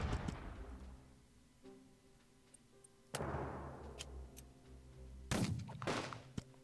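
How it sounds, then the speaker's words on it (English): Artillery fire in the strategy video game Unity of Command II: three faint, separate booming impacts, each fading into a decaying rumble, with soft interface ticks in between. "Meanwhile, we're going to go ahead and suppress these guys with artillery."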